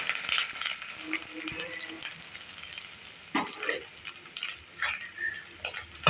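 Onion, garlic and curry leaves fry in groundnut oil, a steady close sizzle with occasional stirring scrapes and crackles rising over it, no talking.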